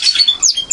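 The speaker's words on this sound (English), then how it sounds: "these birds have been in cages out here this morning to get used to the local inhabitants" Caged birds sit outdoors in the morning among local wild birds, giving bright high chirps and tweets, several quick notes in close succession, near and clear with no voices.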